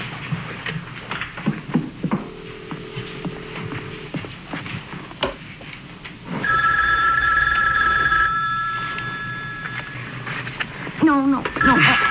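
A telephone rings in a quiet room, its bell trilling in sustained bursts amid background noise, with people talking before and after.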